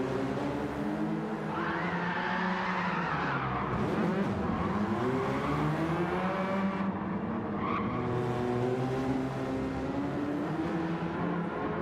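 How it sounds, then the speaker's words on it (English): A race car drifting at Laguna Seca in a racing video game: a steady, loud engine drone with a long tire squeal, the engine pitch rising and falling as the car slides, and no talking. "He's trying to get his drift on."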